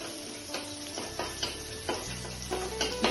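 Black cumin seeds frying in hot oil, a close sizzle broken by several sharp stirring taps and clicks at uneven intervals, with no voices.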